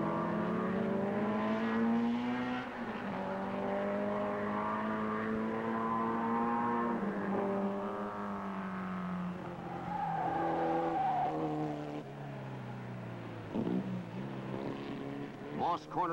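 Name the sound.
race cars at Mosport, Chaparral and Lotus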